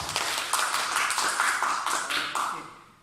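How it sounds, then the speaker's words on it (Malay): A classroom audience applauds student presenters after a talk on rationalism and empiricism, a dense, steady patter of many hands clapping close by for about three seconds, tapering off at the end. "Okey, tepuk tangan untuk semua."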